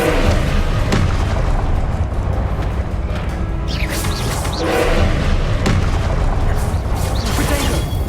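Confringo blasting spells exploding in the video game Hogwarts Legacy: loud, repeated booming blasts that rumble continuously with crackling spell effects layered over them.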